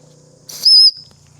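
A single sharp, high-pitched whistle blast lasting about a quarter second, loud and close, with a brief puff of breath just before it.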